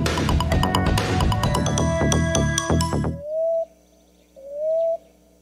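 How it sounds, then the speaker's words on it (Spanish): A common ground dove (Columbina passerina) gives two soft, rising coos after a loud burst of music, each note clear and alone against quiet background. "La tortolita pico rojo, Columbina passerina."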